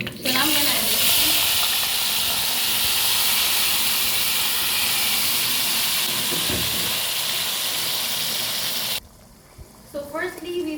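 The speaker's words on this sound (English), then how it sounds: "So now I'm gonna add the chicken." Chicken pieces dropped into hot oil over the dry spices in a pan for dum gosht give a loud, steady sizzling hiss that runs without a break for about nine seconds, then cuts off into near quiet with a few soft clinks.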